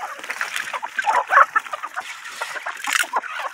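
Chickens on a farm cluck and squabble close by while pecking at thrown food scraps such as rice, with short busy bursts of clucking and some faint splashy movement.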